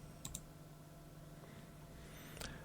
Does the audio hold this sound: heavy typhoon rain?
no